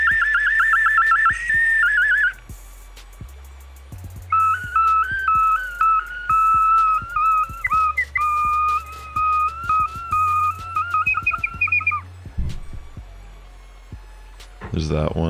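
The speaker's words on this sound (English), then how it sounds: "I have these whistles here that I don't think I've ever shown you" Toy whistles are blown in a series of loud, shrill, steady tones, one long note followed by a warbling two-tone run of repeated short blasts, with bursts of background noise between them.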